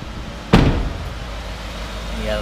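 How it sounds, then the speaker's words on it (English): A used Ford F-150 pickup with a 6.2 engine and about 33,000 miles starts up with a sudden burst, then settles into a steady low idle rumble close by. "Truck fires right up."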